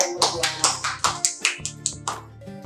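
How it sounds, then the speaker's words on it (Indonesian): Quick claps for two hosts at the close of a hypertension health talk: about ten crisp, closely spaced hand claps ring out over a low sustained tone, then stop. "Tepuk tangan buat kalian berdua."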